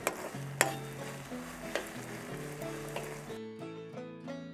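Garlic dropped into hot oil for a Malayali ginger dish, crackling sizzle with a few sharp stirring clinks under soft background music that plays on alone after the frying cuts out.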